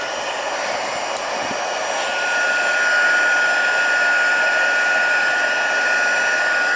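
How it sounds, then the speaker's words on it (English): A heat tool runs to melt gold embossing powder, giving a steady, loud blowing whir with a high tonal whine that keeps going without a break, heard alone. "Okay, let's get the heat tool in here."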